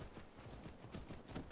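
Horse hooves clip-clopping at a steady trot in Skyrim, a continuous rhythmic patter of hoofbeats mixed with ambient game sound, fairly faint.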